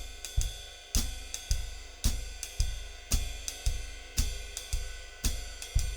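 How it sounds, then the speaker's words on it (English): A jazz ride cymbal pattern rings out in a steady swung rhythm, each stroke shimmering, with soft bass drum thumps on every beat underneath. "it's the jazz ride cymbal pattern, ding, ding, ding, ding, ding, with the quarter notes on the bass drum"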